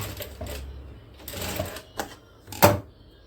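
A domestic sewing machine stitches folded fabric and backstitches with the reverse button, giving short mechanical bursts with sharp clicks, and a louder rattling burst near the end.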